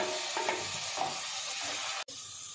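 Chopped tomatoes go into browned onions in a pan for methi matar malai, a steady hissing sizzle with a few soft stirring touches before a sudden brief cutoff, close and without voices.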